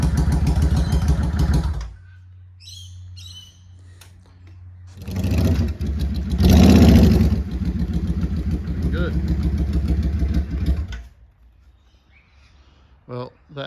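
A Yamaha V Star 650 (XVS650) motorcycle engine, fresh after an oil change, idles with a steady low throb, then revs up loudly for several seconds before dropping back to a quieter idle.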